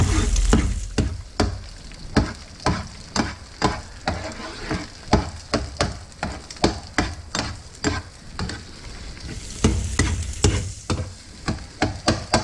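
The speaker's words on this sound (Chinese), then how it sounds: "来，来煎一下，蛋给它煎一下。" Three beaten eggs fry in about a tablespoon of oil in a pan, a constant sizzle punctuated by regular, rhythmic knocks and scrapes of a spatula stirring, close and prominent with no talk.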